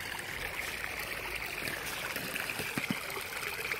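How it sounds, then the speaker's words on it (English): A small woodland stream trickles and splashes steadily over a little waterfall, a continuous gentle rush of water with a few brief louder gurgles near the end. "we actually have a pretty neat little waterfall"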